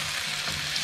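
Potatoes frying in oil in a pan while being stirred and tossed, a dense close sizzle with faint scraping, heard alone in a short burst.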